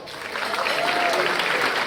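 Audience at an awards event applauds steadily, a dense, continuous wash of clapping from a sizable crowd filling the whole stretch at even loudness.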